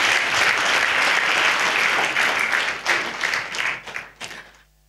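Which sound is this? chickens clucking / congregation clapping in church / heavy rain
congregation clapping in church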